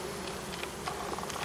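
Honey bees buzz in a steady, soft drone while a hive frame is pulled and inspected at a mountain apiary in early spring, with faint ticks and small knocks over the continuous hum.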